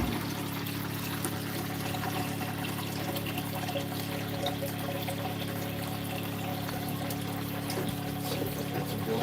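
Water from a bucket pours and trickles through a sailboat's newly replaced bilge pump, a steady close wash of running liquid with a low pump hum beneath, continuous and even throughout.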